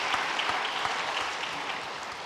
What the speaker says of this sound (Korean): 우리 큰 박수로 격려하겠습니다